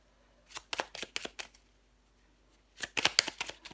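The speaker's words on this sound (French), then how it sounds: "Je prends encore une carte pour vous les vierges." Tarot cards are shuffled and drawn from the deck in two close bursts of crisp flicking taps, separated by a short pause, in an otherwise quiet room.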